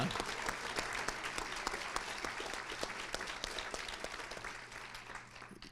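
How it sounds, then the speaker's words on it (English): Crowd applause at a Linn County Republican Party gubernatorial forum in Oregon, honoring veterans: steady, dense clapping from a room full of people that holds for several seconds, over a faint low hum, tapering slightly at the end. "hey, round of applause"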